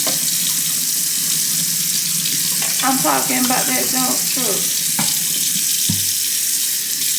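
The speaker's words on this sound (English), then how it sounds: "I need that water to warm up." Kitchen tap running steadily as water is left to warm up during breakfast cooking, a continuous broadband rush through the whole stretch, with a brief voice, some clatter and a couple of sharp knocks near the end.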